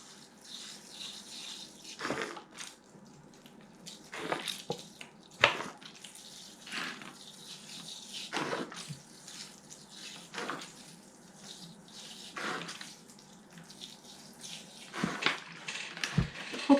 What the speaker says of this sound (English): then I'm going to water the pots as well